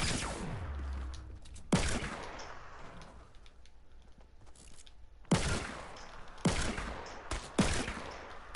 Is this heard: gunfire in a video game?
yes